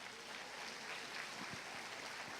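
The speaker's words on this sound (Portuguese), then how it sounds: "Aplauda Jesus." A church congregation applauds during a worship service, a soft, distant wash of clapping that stays faint and even throughout, with a few low thumps near the middle.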